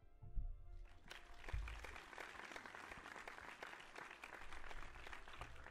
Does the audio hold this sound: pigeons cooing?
no